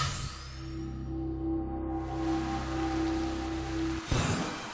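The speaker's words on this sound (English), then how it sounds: "Looks like it's raining." Rain falls on a planet in the Starbound video game as a steady, close hiss of noise. Low sustained tones run beneath it, and the rain thickens briefly near the end.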